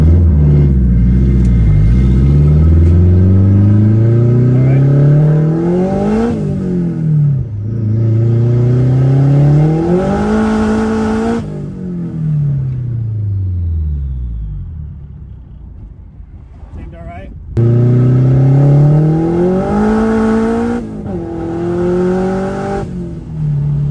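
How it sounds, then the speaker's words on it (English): Turbocharged Acura CL accelerating through a sharp left turn up a hill, its engine revving loud and close in rising sweeps, dropping between gear changes, with a quieter lull before the revs climb again. "So we're going left on an angle here, accelerating."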